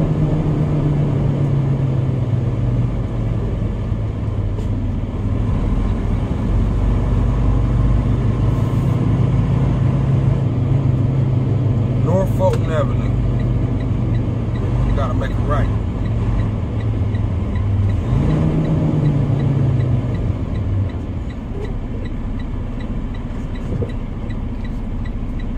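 A flatbed truck drives through downtown Baltimore with a steady, close, low engine rumble that holds throughout and dips slightly near the end.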